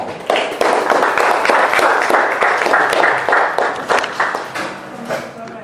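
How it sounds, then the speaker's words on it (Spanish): Steady applause from an audience for a group at the end of an education diploma session, dense overlapping claps close and loud throughout, gradually loosening toward the end, with no speech over it. "Bueno, pues un aplauso al grupo."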